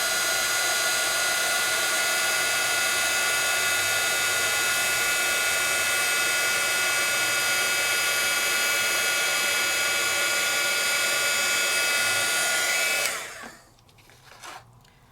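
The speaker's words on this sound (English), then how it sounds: "I'm moving my heat tool with the change." A handheld embossing heat tool blows steadily and loudly over embossing powder on a stencil, a continuous whooshing roar that cuts off abruptly near the end, leaving faint residual noise.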